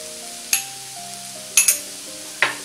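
Paneer bhurji being stirred in a hot pan, with a few sharp scraping strokes spaced through a low sizzle and steady background music.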